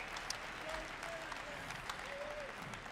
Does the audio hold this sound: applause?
yes